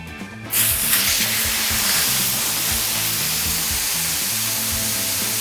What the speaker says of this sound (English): You can't miss that sizzle